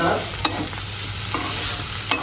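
Bitter gourd fries in a pan while a spatula stirs it: a soft continuous sizzle with two sharp scraping strokes against the pan, close by and without speech.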